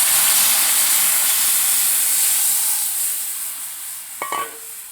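A pan of Malabar-style egg curry simmers with a steady, loud bubbling hiss that eases slightly toward the end, broken by a brief metallic clink.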